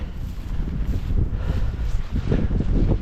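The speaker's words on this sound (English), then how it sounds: "A windy but slightly mild day" Gusty wind on a mild day in the Ottawa Valley outskirts buffets the microphone with a low, uneven rumble that rises and falls for a few seconds.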